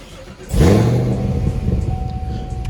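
A ZL1 Camaro engine in its loudest exhaust mode revs up sharply, a deep rising roar that swells and then settles into a steady, rumbling idle close by, with no talking.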